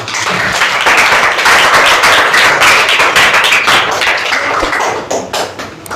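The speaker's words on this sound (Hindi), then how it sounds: "आप अपने लिए जोरदार ताली बजाइए" Loud, dense clapping from a room of children in a class, a continuous burst of many hands with no talking, holding steady for several seconds before tapering slightly at the end.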